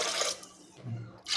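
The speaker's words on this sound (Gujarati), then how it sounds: "તો હવે આપણે તેની અંદર પાણી ઉમેરીશું" Water from a glass splashes into a pressure cooker holding soaked black chickpeas, a short, soft pour with a brief gurgle and a second splash at the end.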